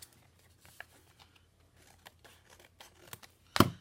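Scissors snipping through Tim Holtz paper in a mixed media craft session, a few soft scattered cuts followed by one sharp, loud close snip near the end.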